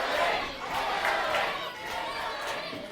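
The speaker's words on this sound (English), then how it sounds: "The crowd telling him to get in the ring." A wrestling arena crowd at a chain match roars and shouts continuously, a dense, steady wash of voices urging a reluctant wrestler toward the ring.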